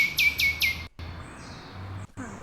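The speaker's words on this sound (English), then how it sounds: "We'll send you the Nightingale now." Nightingale song played over a live stream: three quick bright chirped phrases up front, then a thin, steady, fairly loud background hum with brief dropouts and no talk.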